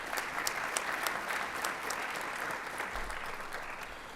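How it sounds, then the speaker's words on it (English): A school district board of trustees meeting audience gives a steady round of applause honoring a retiring staff member, sustained clapping from a roomful of people with no talking. "Let's give her a round of applause."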